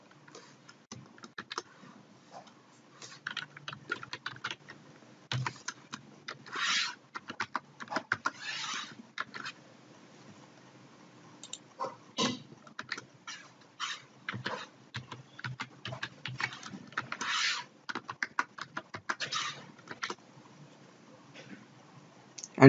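An email address and password are typed on a computer keyboard, giving irregular runs of soft, close key clicks with short pauses between bursts.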